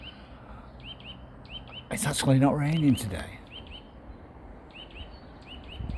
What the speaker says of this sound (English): there's some bird up in the tree and I can't see it anywhere